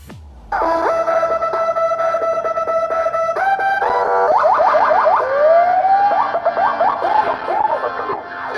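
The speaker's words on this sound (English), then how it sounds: "Siren bike battles are a one-on-one sport." Loud electronic bicycle sirens wail and warble close by in a siren bike battle in South Auckland, one tone holding steady before rapid whooping sweeps and yelps take over, overlapping one another.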